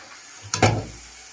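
Goat meat being sautéed in a kadai gives a single short burst of sizzling hiss with a low thump, close by, that quickly dies away into quiet.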